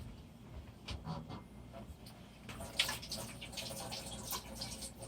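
Tap water runs from a faucet while hands are washed, a soft, steady splashing hiss that grows busier and slightly louder about halfway through, heard fairly faint with no talking.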